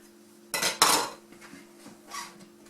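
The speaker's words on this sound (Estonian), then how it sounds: "Ma natuke röstin neid pähkleid." Nuts toasting in a metal pan for a rhubarb cake give two loud clattering bursts near the start, followed by softer scattered rattles and scrapes over a steady low hum.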